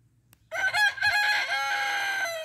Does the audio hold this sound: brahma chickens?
yes